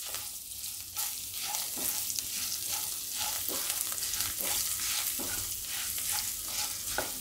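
Dal premix spices roast in hot oil while being stirred, a dense continuous sizzle broken by regular scraping strokes of the spoon, close and steady, with no speech.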